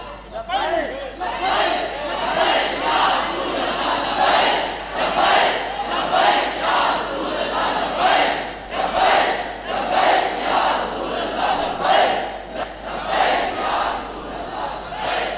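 A large crowd chants a religious slogan in unison at a sermon gathering, rhythmic loud shouted bursts repeating every second or so, with the chant continuing steadily throughout.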